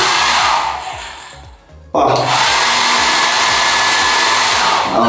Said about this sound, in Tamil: கைஸ் பார்த்தீங்கன்னா நல்ல ஒரு ஹேர் ட்ரையர் இருக்குது